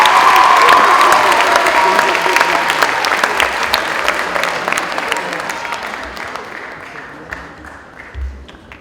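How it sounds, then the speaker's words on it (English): A large crowd at a Veterans Day ceremony applauds a choir loudly, with dense sustained clapping and a few cheers, gradually fading out toward the end. "How about another round of applause for the Pennridge Choir?"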